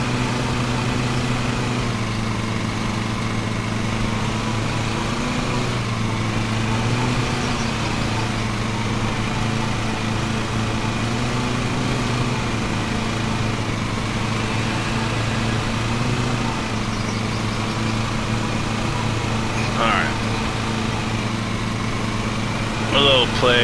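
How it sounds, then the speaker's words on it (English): A steady, droning ride-on mower engine from Lawn Mowing Simulator on PS5 runs continuously at an even pitch throughout, with someone talking over it. "Yes, I'm mowing grass."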